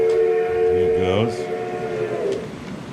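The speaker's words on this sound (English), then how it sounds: "How about a whistle?" A model train layout's sound system plays a steam-style train whistle, a loud sustained multi-tone blast that bends and wavers midway, then fades out over a low rumbling background.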